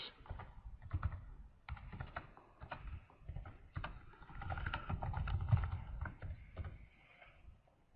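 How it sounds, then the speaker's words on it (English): Someone types a SQL query on a computer keyboard to pull data from a Hadoop file system, producing close, uneven bursts of key clicks with brief pauses between them. "let's write a query to get the data stored on the Hadoop file system"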